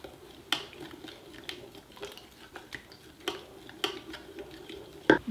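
A utensil stirs a yeast packet into liquid for a gluten-free bread mix, producing light irregular clinks and taps against a bowl, quiet and close with no talking.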